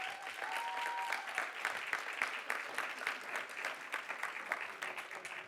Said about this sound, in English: So please give them a round of applause for me.